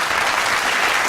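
Dense applause from an audience at an Urdu literary gathering fills the whole moment, a steady, loud wash of many hands clapping together.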